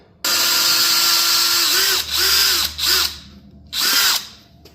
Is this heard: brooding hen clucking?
no